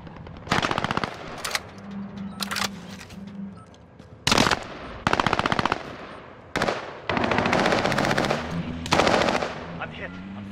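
Bursts of automatic machine gun fire in a multiplayer video game firefight, several loud rattling volleys separated by short pauses, with faint voice chat between them.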